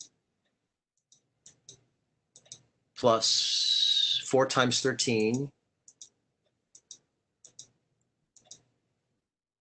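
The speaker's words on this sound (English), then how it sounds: "let me do it here on the keyboard" Sparse, light key clicks on a computer keyboard as numbers are entered for a math sum, tapping singly and in short bursts, with a voice speaking briefly in between.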